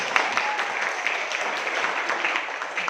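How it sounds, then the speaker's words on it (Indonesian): Classroom applause for a group of physics presenters, a steady patter of many hands clapping at moderate volume for about three seconds, with faint voices mixed in. "beri tepuk tangan"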